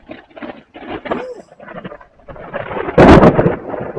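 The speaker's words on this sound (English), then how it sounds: "the thunder started to get much closer." A loud crack of thunder bursts out near the end, close and heavy, following a stretch of low rumbling and patter.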